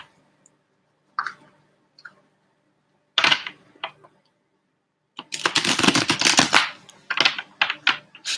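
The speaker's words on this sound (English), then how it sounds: "I already started shuffling for Beautiful" Tarot cards being shuffled by hand during a card reading: a few soft isolated flicks and taps early on, then a dense, loud riffling burst of shuffling near the end, with no talking.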